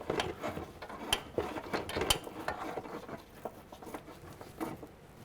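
A brake hose line fitting is unscrewed by hand on a 2010-2017 Chevrolet Equinox, giving close, irregular metallic ratcheting clicks and small taps, with a few sharper clicks near the start and no talking.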